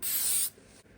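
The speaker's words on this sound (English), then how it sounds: "Give this a blast of activator." Aerosol can of super glue activator giving one short, close hissing spray burst of about half a second, then a quiet room.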